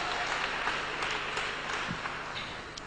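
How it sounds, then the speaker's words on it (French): A church congregation claps and cheers at a French-language preaching service, a dense, continuous burst of applause with scattered sharp claps, moderately loud, without talk over it. "say amen and clap to God."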